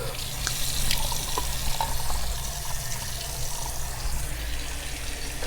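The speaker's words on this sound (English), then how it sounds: "And I do a little cool water rinse." Cool tap water runs and splashes in a sink during a post-shave face rinse, a steady close rushing flow that carries on throughout with no talking.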